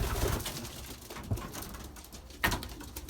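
Belgian racing pigeons at the loft coo low and soft, with a few sharp wing flaps or knocks standing out near and loud amid the quiet bird murmur.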